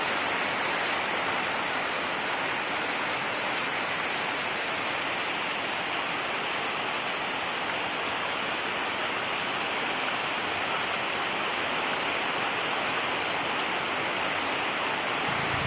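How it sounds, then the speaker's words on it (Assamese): Heavy morning rain pours down in a dense, unbroken hiss that stays loud and steady throughout, with no voices over it. "পুৱাই পুৱাই ইমান বৰষুণ, পুৰা বৰষুণ পৰি আছে আমাৰ ইয়াত।"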